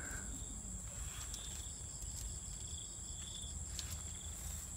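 Crickets released as fishing bait beside a snakehead fishing spot give a steady, high, thin trilling that runs continuously over low outdoor rumble.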